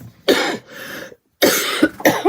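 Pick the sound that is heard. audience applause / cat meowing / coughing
coughing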